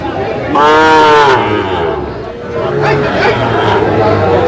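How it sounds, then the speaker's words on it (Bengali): Young bulls and heifers low loudly at a crowded Ambari livestock market in Dinajpur, one long drawn-out moo standing out near the start, with further bovine calls and a steady babble of voices and talk around them. "দর্শক আমরা দেখছিলাম এখানে ছোট ছোট ষাঁড় বাচ্চা"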